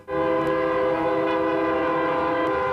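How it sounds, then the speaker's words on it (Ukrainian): A long, loud, steady car horn blast sounds continuously close by during a memorial for road-crash victims in Poltava, a single sustained tone without breaks. "Полтавські автомобілісти вшанували пам'ять загиблих у дорожньо-транспортних пригодах звуками клаксонів."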